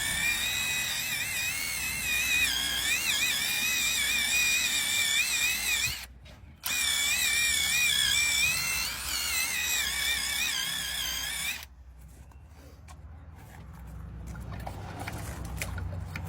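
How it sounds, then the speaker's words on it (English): A power drill whines loudly and steadily with a drill brush scrubbing a car mat, briefly cutting out once, then stopping into quieter rustling and handling noise. "I'm going to use my drill brush with the blue drill brush attachment on just to agitate anything"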